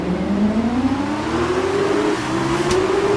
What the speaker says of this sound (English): I also turn the volume up on the television to make sure I can actually hear the engines